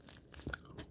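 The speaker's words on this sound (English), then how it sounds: "I am munching." A streamer crunches food close to the microphone, a few short crisp bites within under a second, fairly quiet and with no talking.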